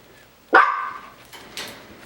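A Coton de Tulear puppy gives one sharp, high bark, then two quieter yips, close by in a quiet room.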